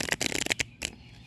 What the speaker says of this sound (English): Let me shuffle this one time.